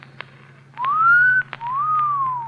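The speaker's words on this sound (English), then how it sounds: "you should have made the whistle shorter, like this" A person whistles two rising-and-falling tones in a row, each held about half a second, close and clear over a faint low hum, preceded by a couple of soft clicks.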